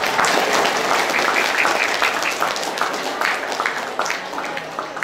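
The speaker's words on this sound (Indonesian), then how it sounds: "Silakan tepuk tangan." Sustained applause from an audience at an Indonesian school graduation ceremony, dense steady clapping filling the room at a constant loud level throughout.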